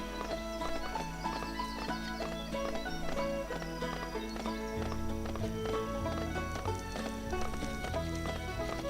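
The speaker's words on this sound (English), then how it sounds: "Rex looks like he's having fun riding a pig." Steady clip-clop footsteps of a pig being ridden in the Lego City Undercover video game, a continuous trotting rhythm under loud, busy game music.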